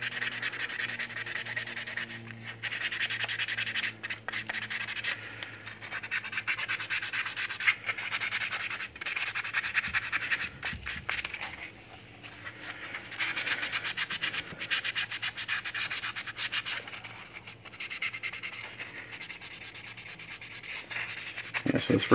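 Steady motorized sanding rubs at a primed vinyl figure kit close by, a continuous gritty rasp with brief pauses and shifts in pressure, alone with no talk.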